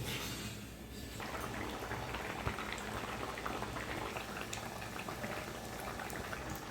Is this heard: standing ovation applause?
no